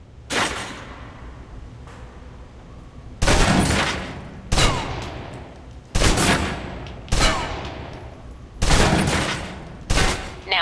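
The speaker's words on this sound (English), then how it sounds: "Now, let's move on to the submachine gun. Now let's empty the clip." Submachine gun in the Alpha Protocol video game emptying its magazine in six or seven loud, close bursts of rapid fire separated by short pauses, each burst ending in a ringing tail.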